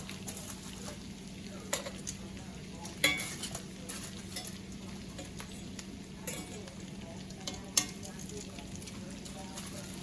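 Lamb loin chops sizzle in a frying pan with a steady, close crackle, broken by a few sharp clinks and scrapes of utensils against the pan.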